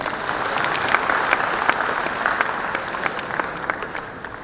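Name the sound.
audience applause at a business conclave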